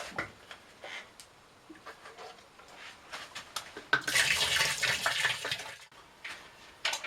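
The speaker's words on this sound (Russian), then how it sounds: "И теперь добавляем сюда чистую воду." Clean water pours into a large batch of plum (cherry plum) mash for homemade moonshine, a steady rushing splash that swells loudly at about four seconds after quieter handling sounds, with no talk.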